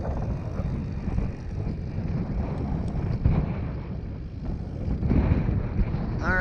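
Strong wind buffets the microphone during a recumbent trike ride on the Sinton Foothills trail, a loud, continuous low rumble with gusty swells and no clear speech.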